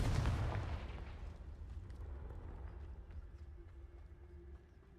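Confringo, a fire-blasting spell in Hogwarts Legacy, lands as a single booming explosion at the start and then rumbles and fades into a low lingering ambience.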